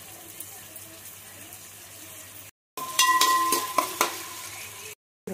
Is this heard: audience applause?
no